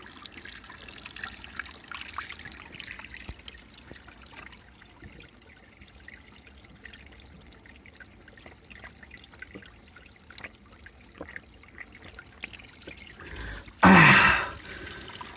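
Spring water trickles in a soft, continuous thin flow outdoors, quiet and close, with small drips scattered through it before a sudden loud burst of noise near the end.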